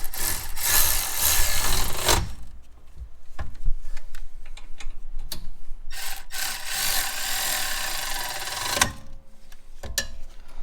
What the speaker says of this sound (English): All right, then Ash is going to use our electric ratchet, our new Christmas present that we're super excited about.